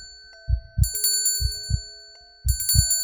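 Ringing bell effect in a spoken horror story, with small bright bell strikes coming in quick pairs, three clusters with short pauses between them, each backed by low thudding beats and lingering tones.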